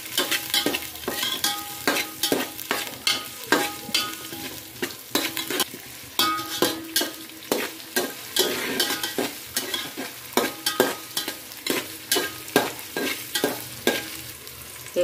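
Onion frying in a pan with bay leaf for vegetable dum biryani, a constant sizzle broken by regular scraping strokes of a spatula, fairly close and steady for the whole stretch, without any voices.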